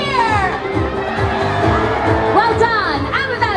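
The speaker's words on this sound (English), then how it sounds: "let us hear a loud pirate cheer!" Large crowd of adults and children at a pirate night party on a Disney cruise ship roars a loud pirate cheer, with shouts and whoops rising together, near and sustained.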